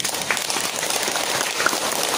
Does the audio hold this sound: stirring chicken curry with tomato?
no